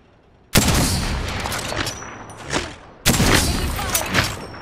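Gunfire in an Apex Legends match comes as two loud, sharp bursts, each with a rattling tail, about two and a half seconds apart, close to the listener.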